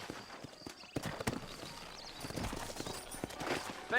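Sturdy horses' hooves clip-clop at a walk in the Red Dead Redemption video game, a quiet, irregular patter of hoof strikes with faint ambient background.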